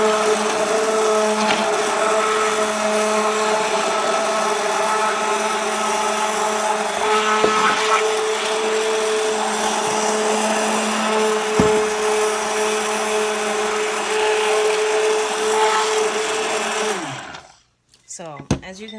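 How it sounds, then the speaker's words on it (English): A blender emulsifies oil and liquid for a handmade face cream, producing a steady, close motor whine that runs loudly and unbroken for most of the stretch before cutting off abruptly near the end. "I add the liquid to the oil slowly as I'm blending. And I blend until I hit emulsion."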